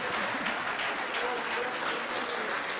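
Audience applause after a talk on chemtrail research: steady, dense clapping spreading evenly across the whole stretch, moderately loud and without pauses.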